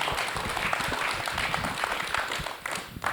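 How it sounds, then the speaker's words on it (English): Brief scattered applause from a small audience at a talk on local news, a steady patter of claps lasting a few seconds. "You can clap for him."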